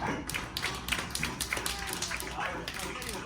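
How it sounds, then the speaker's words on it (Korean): An audience claps along to a dance performance on a Hawaiian sunset cruise. The claps come as a dense, steady run of sharp, close hand claps that carry on through the whole stretch. "빠른 속도에 맞춰 빨라지는 박수에 집중도도 같이 늘어납니다"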